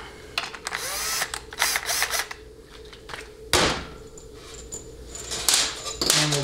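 Valve body bolts are driven into a 700R4 transmission with a ratchet or power driver, heard as bursts of close mechanical clicking and whirring, a few sharp clanks, and brief pauses between bolts.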